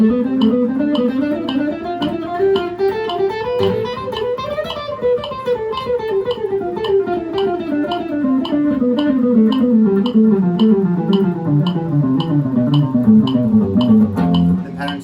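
A guitar plays diatonic scale patterns in groups of four, a long stream of quick, evenly picked notes that rise and fall in steady repeating shapes for about fifteen seconds, close and clear with no talking.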